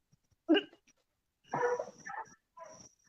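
Dog barking in a song: a short bark followed by two longer yelping, whimpering barks, fairly close and alone against silence.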